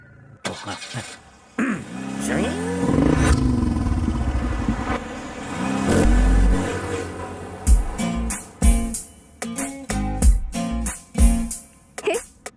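A car starts and is driven in a comedy scene, with a rough engine rumble and revving that rise and fall. Sharp clatters and bursts come in toward the end.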